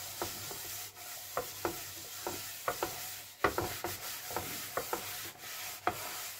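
A steel wire scourer with dish soap scrubs a burnt cooking pan in short, repeated rasping strokes, close and fairly quiet, with brief pauses between bursts.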